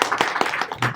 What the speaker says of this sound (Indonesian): sekali lagi tepuk tangan buat Dewa Web